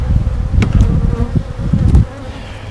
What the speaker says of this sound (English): got bees in the bottom box.